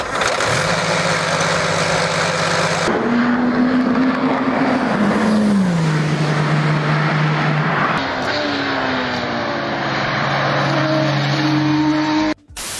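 An Audi R10 TDI diesel race car runs at Le Mans, its engine note loud and near, rising and falling in pitch through gear changes as it accelerates and backs off, with no talk.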